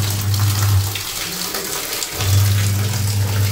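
Water gushes loudly from a tap while clothes are washed by hand at home, with a strong low rushing flow that briefly drops away mid-way before surging back.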